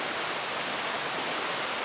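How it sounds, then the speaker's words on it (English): A small stream flows across an Appalachian Trail crossing, giving a steady, even rush of water that stays close and constant with no voices. "Nice little stream crossing here"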